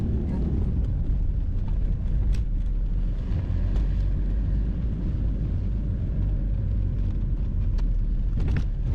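Motorhome driving around a car park in Benidorm, a steady low engine and road rumble heard from inside, with occasional talk and small knocks.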